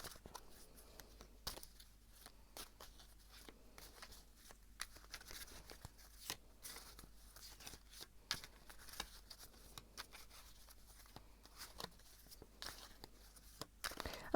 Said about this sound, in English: I'm going to shuffle a little bit more and see.